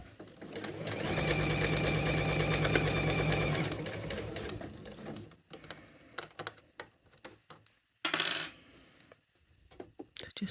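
A sewing machine stitches a piped cushion cover beside the cord, running steadily and close for several seconds, then stopping into scattered clicks and one brief second burst.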